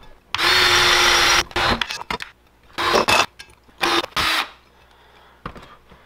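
A power drill with a quarter-inch bit whirs in several bursts while drilling holes, a long run first and then shorter spurts with pauses between, loud and close.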